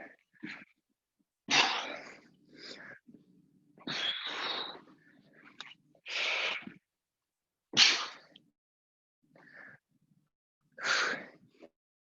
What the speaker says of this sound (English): You can hear my weird breathing.